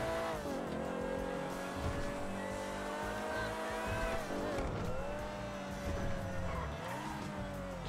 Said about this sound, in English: It's trying to push through them gears.